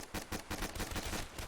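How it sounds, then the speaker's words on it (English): A shotgun firing in Call of Duty Black Ops 3 Zombies on the Kino der Toten map, heard as a quick string of close, evenly spaced shots that run together in a rapid burst. "That's a shotgun."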